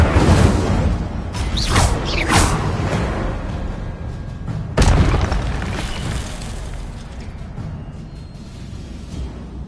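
An Incendio fire spell erupts in Hogwarts Legacy, a loud booming blast with whooshing flame, followed by a second sharp burst midway that decays into a lingering rumble.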